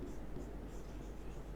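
Marker or chalk writing on a classroom board during a chemistry lesson, a steady soft scratching and squeaking stroke sound lasting under two seconds, close by with low room hum and no talk over it.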